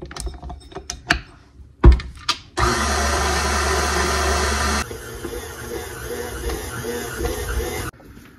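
A stand mixer kneads bread dough made with flour, starting with a loud, steady mechanical whir that drops to a lower, quieter hum partway through, preceded by a few sharp clunks as it is set up.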